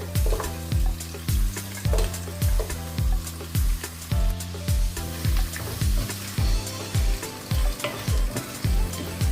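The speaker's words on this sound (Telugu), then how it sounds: "ఆయిల్లో ఫ్రై అయ్యాక 1 by 1 ఒక్కొక్కటి వేద్దాం. So first carrot వేద్దామండి." Carrots frying in hot oil for a vegetable biryani, stirred steadily with a spoon, giving a loud continuous sizzle broken by rhythmic scraping strokes against the pan, with no talking.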